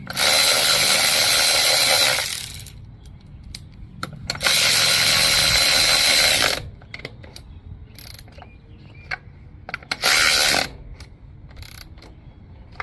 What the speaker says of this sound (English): Put your nuts back on, 10 millimeter